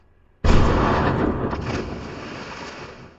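A single loud gunshot from the film X (2022), an abrupt blast that booms and then decays slowly over the next few seconds.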